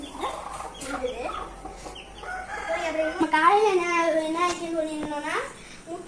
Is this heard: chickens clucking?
yes